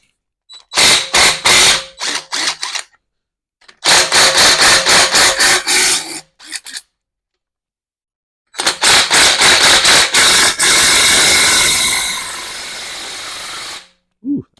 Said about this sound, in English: Go ahead and see if we can get these bearing caps off. Just a little 5/8 inch socket.